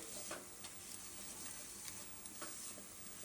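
A mixture for cheese rice is stirred steadily in a pan to keep lumps from forming, with a faint sizzle underneath and soft repeated scraping strokes. No voices are heard.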